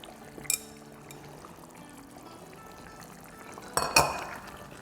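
Medium-sized potato pieces tumble into a pot of palak gosht in two quick bursts, one early and a louder clatter near the end, over a low background simmer with no talking.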